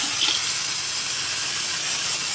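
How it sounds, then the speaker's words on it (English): Brake parts cleaner sprays from an aerosol can onto the brake parts of a Pontiac Aztek, a loud, close, unbroken hiss lasting a couple of seconds. "Now I'm just gonna take some brake parts cleaner"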